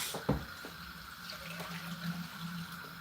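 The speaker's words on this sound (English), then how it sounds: "I'm going to put some water in the machine because I don't want anything to left anything behind." Water runs steadily over palm nut shells in a machine while they are washed, a continuous close wash with a soft splash near the start and no talking.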